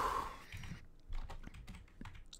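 A computer keyboard clatters quietly and irregularly during gaming, bursts of quick keystrokes and single taps spread across a couple of seconds, close and alone with no talk.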